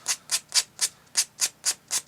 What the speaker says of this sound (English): I glued up another little sanding stick. Then I just go around the edge of it